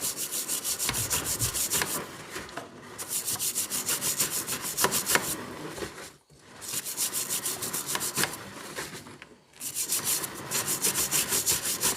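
Brush scrubbing a motorcycle chain coated in black cleaning product as it is turned by hand in a garage, rapid rhythmic rubbing strokes in bursts of a few seconds separated by brief pauses.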